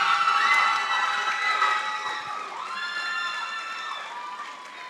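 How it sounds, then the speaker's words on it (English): A secondary school graduation audience cheers and applauds for a graduate, a dense crowd roar with high children's shouts and whoops rising and falling over five seconds, loud and continuous. "Let's keep the applause coming, Miss Retty Gussie."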